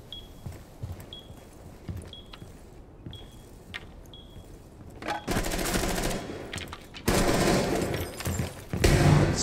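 FMG9 submachine-gun fire in a video game, starting with sparse distant shots and short chirps, then bursting into loud sustained rapid-fire volleys in two long bursts toward the end.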